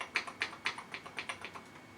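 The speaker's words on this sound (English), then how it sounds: "But it's a mechanical key. It should be a mechanical keyboard." Keys clack in a quick, even run on the mechanical keyboard of a 31-year-old Atari 800XL home computer, each press sharp and close and fairly quiet, with no voices over it.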